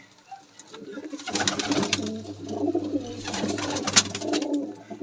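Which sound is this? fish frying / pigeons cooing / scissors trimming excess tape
pigeons cooing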